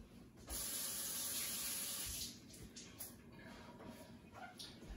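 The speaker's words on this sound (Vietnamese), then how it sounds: "Rồi rửa tay" Hands washed under a running kitchen tap: a loud, steady gush of water for about two seconds, then a softer, splashing flow as the hands move under the stream, close by.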